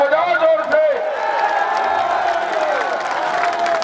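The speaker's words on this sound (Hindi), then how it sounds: "ताली बजाओ जोर से।" A large outdoor election rally crowd claps and cheers loudly, a dense sustained roar with whoops, voices mixed in throughout.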